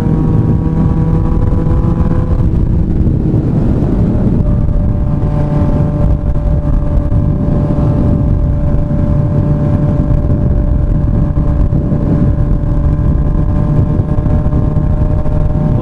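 A Honda CB1000R motorcycle with only a bare exhaust pipe runs close and loud, its engine drone holding steady, then dipping and climbing in pitch as the revs change, continuing without speech for about sixteen seconds.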